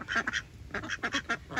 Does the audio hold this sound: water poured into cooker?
no